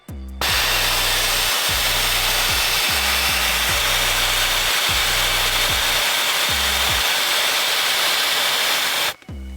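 Air rushes out of tires being aired down through quick-deflate valve stems, a loud, steady, close hiss that starts abruptly and runs unbroken for about nine seconds before cutting off, with no talking.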